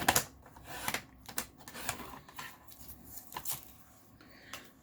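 A paper trimmer with a dull blade cuts through planner filler paper, giving a series of close clicking, scraping strokes in an uneven rhythm.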